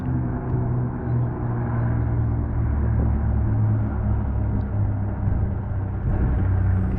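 A steady, loud Spitfire engine drone holds throughout, deep and rumbling with a sustained tone, as the propeller plane passes close overhead in Kingsdown, Kent, England.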